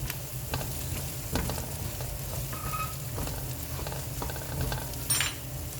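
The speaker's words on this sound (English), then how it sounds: "So you continue frying until you can smell the fragrance of the curry" Steady sizzling of chicken curry frying in hot oil, with occasional scrapes and clinks of stirring in the pan.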